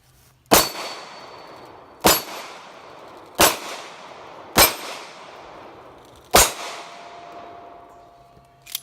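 Five sharp, loud gunshots from a Springfield Armory 1911 EMP 9mm pistol ring out at irregular intervals on a range, each crack followed by a metallic ringing decay, with no talking.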